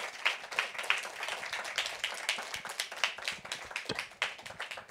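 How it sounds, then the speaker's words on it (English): An audience claps for a speaker at a dialogue-series talk on globalization: moderate, steady hand-clapping from a modest crowd in a room, with no voices over it. "Ladies and gentlemen, a round of applause for our speaker,"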